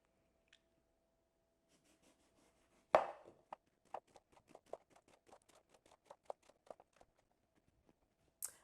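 A knife slices eggplant into even slices on a board for baked eggplant, one sharp thud followed by a quick run of soft, regular cuts, faint and close in an otherwise quiet room.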